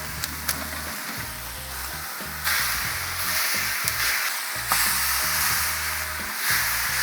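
Smash burger patties for bacon double cheeseburgers sizzle loudly and steadily on a hot cast iron surface just after being flipped, a dense continuous crackle with a few sharper pops and stirring scrapes.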